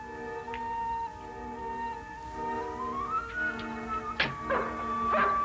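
A dog in an old film whimpers and yips in short, high, wavering cries over steady background music, fairly faint, with no one talking.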